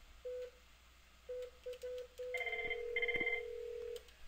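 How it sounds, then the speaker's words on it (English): Dialing out through a router's voice port: short single-tone dial beeps in an irregular sequence, then a steady ringback tone with overlaid higher tones as the call goes through, clear and alone. "you probably heard in the background that call go through"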